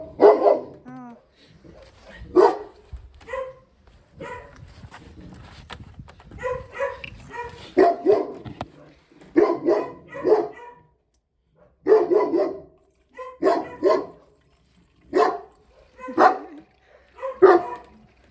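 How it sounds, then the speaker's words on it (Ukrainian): Outdoors where a tree is being felled, a dog eats and barks in repeated sharp bursts, some in quick doubles, at close to middle distance, with faint voices between barks. "Їсть і гавкає."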